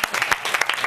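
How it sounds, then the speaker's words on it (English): A short burst of applause from a family gathering, a quick scatter of close hand claps over about a second. "I think we all need to give us a round of applause for this."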